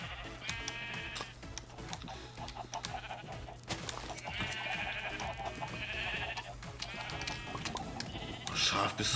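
Sheep in the Minecraft video game bleat repeatedly in several drawn-out calls, close and fairly loud over a steady background of game sound and music, with a final bleat near the end.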